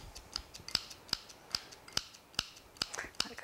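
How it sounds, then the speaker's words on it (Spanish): Scissors snipping fresh culantro (cilantro) for Caribbean-style beans, a steady series of about eight crisp close clicks at an even rhythm, faint background otherwise. "y picadito con tijeras y así va a soltar más aroma."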